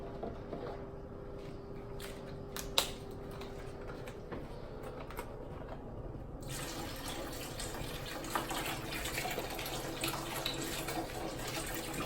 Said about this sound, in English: So we're gonna go ahead and add the seafood stock.